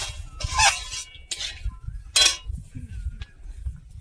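Soaked lentils stirred in a cooking pot, a few short scraping and clinking strokes of a utensil against metal, separated by pauses over a faint low background.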